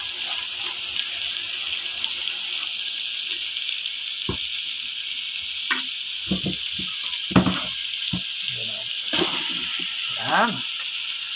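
Water splashes and hisses into a hot pan of vegetables cooking in coconut milk, with steady sizzling and scattered clinks of a utensil stirring, and some faint talk.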